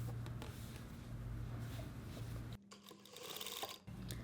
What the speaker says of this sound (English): Now sew on the folded side, sew at 1/4 inch in from the edge.